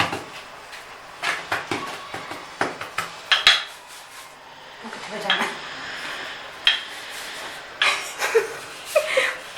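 Aloo paratha dough is rolled out in a home kitchen, with irregular knocks and clatters of a rolling pin and utensils against a board. Light laughter and some talk can be heard in the background.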